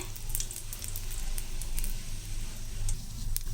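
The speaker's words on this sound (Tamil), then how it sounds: "இப்போது கடுகு பொரிஞ்சிச்சு" Mustard seeds crackle and splutter in hot oil with asafoetida and a broken dried red chilli while tomato chutney is cooked, giving a steady sizzle topped by sharp, scattered pops, close and unbroken.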